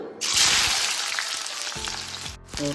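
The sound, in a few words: oil heating and sizzling in a kadai on gas stove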